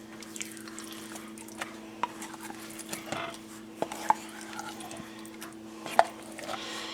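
A spoon mixes pumpkin into a baking-soda cake batter in a bowl, with soft wet stirring and sharp intermittent clinks against the bowl, close and fairly quiet over a low background hum.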